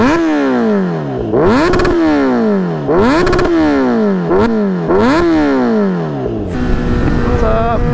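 A Kawasaki Z900 motorcycle with an aftermarket exhaust revs repeatedly up close, each sharp rise in pitch falling back to idle in about five loud cycles, ending in a rough burbling idle.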